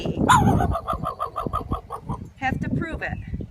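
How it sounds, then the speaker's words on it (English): A raccoon gives a run of rapid, evenly spaced harsh barks much like a small dog, close and fairly loud, followed by a few rougher yelps. "This is the raccoon that doesn't like me. He only seems to bark at me."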